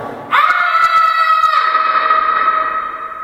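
A person screams loudly and steadily in a lab room, a single sustained vocal tone held for about three seconds that gradually softens toward the end, with no talk.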